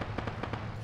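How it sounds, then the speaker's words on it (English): Hand grenade blast in the military video game Arma, a short burst of several sharp cracks and pops over a low rumble, close and fairly loud. "Somebody's hand grenading me."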